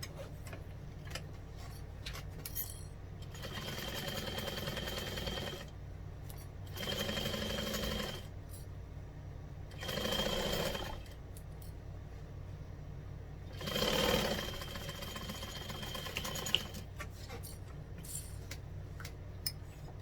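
A home sewing machine stitches a fold-over clutch in several separate bursts of a few seconds each, with quiet handling and small clicks between runs and no talking.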